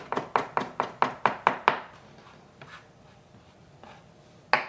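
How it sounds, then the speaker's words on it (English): A knife chops parsley rapidly on a board, about eight quick even strokes, then stops, followed by a few scattered taps. "keep chopping away until you get that fine mix we're looking for"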